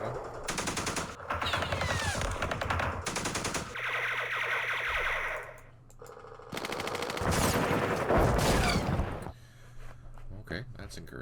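Bursts of automatic gunfire from a Campaign Series Vietnam wargame, loud rapid rattling volleys in several separate bursts with short pauses between, plus a lower engine-like drone in the gaps.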